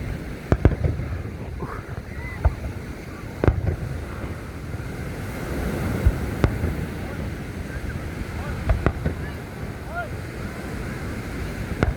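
Fireworks over the ocean at Long Beach, New York, heard as scattered sharp booms and thuds at irregular intervals against steady wind and surf noise, with people talking throughout.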